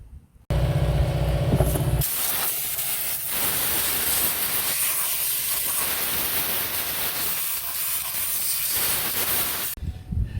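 Compressed air blasts steadily around the engine bay of a 2016 Dodge Journey during battery replacement, a loud continuous hissing rush lasting most of the clip, preceded by a brief burst and tapering off at the end.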